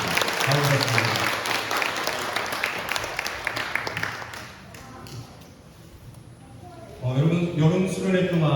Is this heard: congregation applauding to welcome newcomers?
yes